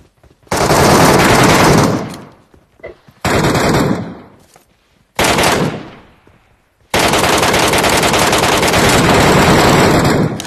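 Automatic gunfire in the PUBG Metro Royale video game comes in four loud bursts of rapid fire separated by short pauses, the last burst the longest and sustained.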